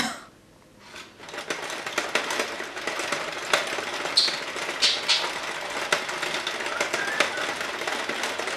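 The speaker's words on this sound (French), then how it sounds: "Vous avez un autre bruit, c'est la machine à pain." After a short quiet moment, a bread machine starts up with a busy mechanical whirring that continues steadily, with small clicks and rattles layered over the hum.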